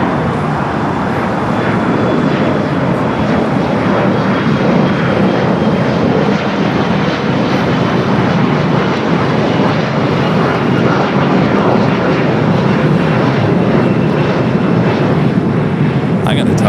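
Jet airliners at LAX, a Boeing 777 and a Dreamliner, holding on the south side, give off a steady broad engine roar that runs throughout, with a voice talking over it.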